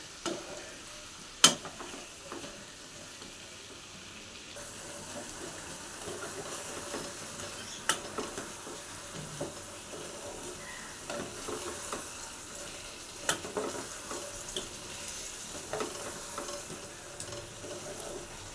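Spice paste with turmeric and salt fries in oil in a pan, a continuous soft sizzle broken by scraping stirs and occasional sharp clinks of the spoon against the pan, close and without talk.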